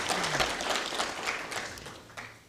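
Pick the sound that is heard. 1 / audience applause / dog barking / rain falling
audience applause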